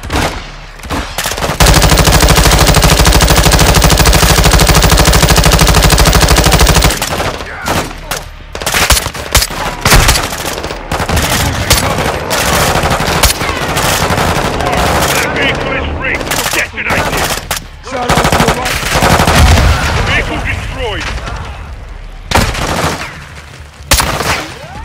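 Sustained automatic gunfire from a Modern Warfare 2 cover-fire sequence, loud and close, with long unbroken bursts followed by choppier volleys and scattered shots, voices speaking in between.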